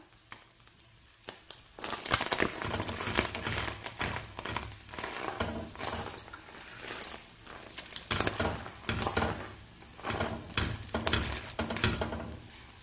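Egg dosa batter spreading and sizzling on a seasoned iron griddle, a dense crackling patter that starts abruptly and continues steadily, close and fairly loud, with occasional scraping and stirring touches.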